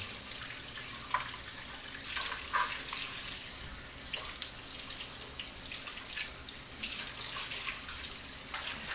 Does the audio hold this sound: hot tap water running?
yes